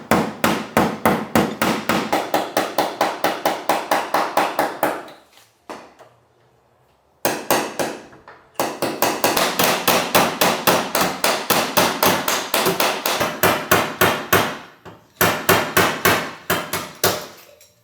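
Repeated hammer blows on a crashed car's metal body during an amateur repair, a steady loud rhythm of sharp strikes in two long bursts separated by a brief pause, with no talking.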